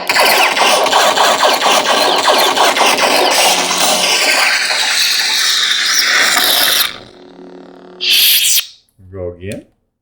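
Neopixel Luke Skywalker lightsaber sound font playing a loud roaring ignition and buzzing hum up close, then cutting out before short electronic bursts and a chirp near the end.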